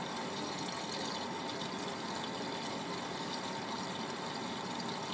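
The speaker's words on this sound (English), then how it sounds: "The good thing, it showers the duvet with water as well, so it rinses off any like fluff or anything." Miele W562 Prestige Plus 6 washing machine filling with water for the final rinse of a king size double duvet, a steady, continuous rushing and spraying of water with a pump-like hum throughout, no talk.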